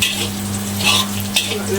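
Garlic, ginger and onion frying in a pan for a squid sauce, a steady loud sizzle with brief stirring scrapes and a low hum underneath.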